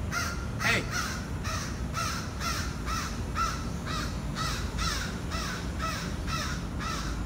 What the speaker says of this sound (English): I'm not sure what that crow's up to.